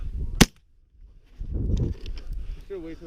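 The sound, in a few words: shotgun shot at geese while goose hunting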